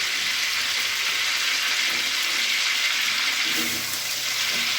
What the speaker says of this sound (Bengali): এবারে আমি আলুটাকে ভেজে নিচ্ছি